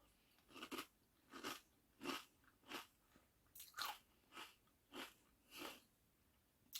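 Crunchy Marks and Spencer's apple and cinnamon cereal flakes being eaten close up, with about ten crisp bites and chews in a steady rhythm and no talking.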